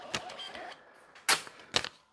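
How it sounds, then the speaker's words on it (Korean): A KTC-K400 card terminal prints a payment receipt in a few short, sharp mechanical bursts of rattling print-head noise separated by brief pauses, close and moderately quiet. "이걸 인쇄하고 싶으면 입력 버튼 눌러주면 됩니다. 그러면 인쇄가 됩니다."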